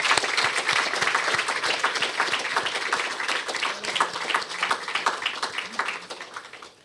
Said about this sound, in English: shall we give Mr. Sham Peter a second round of applause?